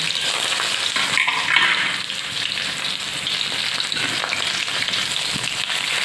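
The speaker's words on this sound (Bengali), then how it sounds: "আমি কলার কড়ার মধ্যে তেল দিয়ে লঙ্কা কটা দিয়ে দিয়েছি এবার আমি পেঁয়াজ কোটা দিয়ে দিয়েছি" Chopped onion and green chilli frying in oil in a wok, a steady close sizzle that holds loud and even throughout, with faint stirring scrapes and no talk.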